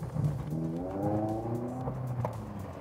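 A 2004 Honda S2000 with lowered suspension and non-stock Honda wheels drives over a rough road, its engine holding a steady hum with harmonic tones rising and falling over a continuous rumble of road noise, close and alone.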